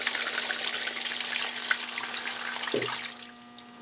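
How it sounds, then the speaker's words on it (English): Tap water runs steadily into a pot for pressure canning, a close, even rushing stream that eases off toward the end, followed by a single light knock. "I will probably put a little bit more water in there"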